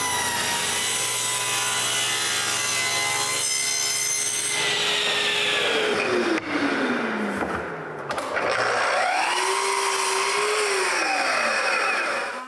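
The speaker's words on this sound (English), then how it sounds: "Then I can cut the wood for the support themselves." A power tool cuts wood for tool cart supports, a loud whining motor that bites into the stock, drops away, then rises and falls again in a long second pass, close and continuous.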